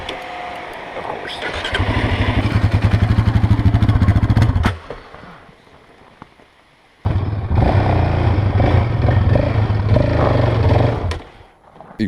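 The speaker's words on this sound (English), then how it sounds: "if I do it too fast, the bike dies" A motorcycle engine runs loud and close, then stalls abruptly when the clutch is let out too fast, dropping to near silence before the bike restarts and revs steadily again, a voice speaking briefly during the quiet gap.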